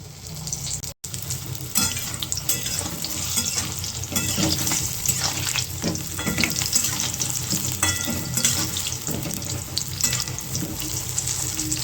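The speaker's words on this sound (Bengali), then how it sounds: "এবার আমি একটা করে করে পকোড়া ছাড়ি।" Cauliflower pakoras coated in gram-flour batter fry in hot oil, giving a loud, steady, crackling sizzle that continues throughout, with only a momentary dropout near the start.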